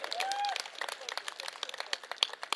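An audience at a public speech event claps in scattered, uneven bursts, opening with a brief whistle-like tone, then sparse individual claps that are moderately close.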